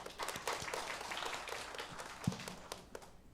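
A church congregation claps in welcome during a Sunday service, a soft, steady patter of many hands spread through the room at moderate distance, with one sharper low thump near the end.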